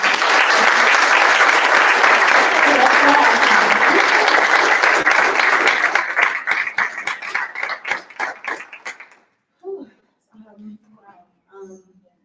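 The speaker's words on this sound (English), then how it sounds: "Can we give them all a round of applause?" Book launch audience at a bookstore and library event bursts into loud, dense applause that thins into scattered individual claps and fades out, followed by a few soft words spoken.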